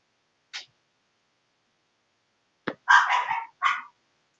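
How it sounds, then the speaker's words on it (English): A dog barking a short burst of sharp barks near the end, after a single faint yip earlier and stretches of silence. "Oh my god, I gotta let this dog in."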